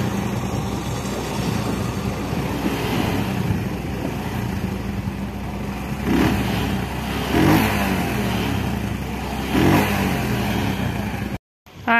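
Outdoor engine revving during a family hiking outing, a steady mid-pitched running drone with several short surges as the throttle is blipped, close and alone without talk.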